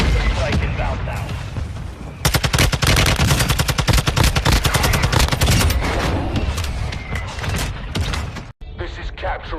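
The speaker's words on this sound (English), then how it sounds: "Mortar strike inbound now." A mortar strike in a military shooter video game sets off a loud, dense barrage of rapid gunfire and explosive booms, with voices heard over it, ending in a brief silent gap and quieter rumbling.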